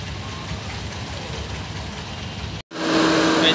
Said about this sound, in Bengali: লঞ্চ ছেড়ে দিল। এবার আমরা শান্তিপুর দিকে রওনা হচ্ছি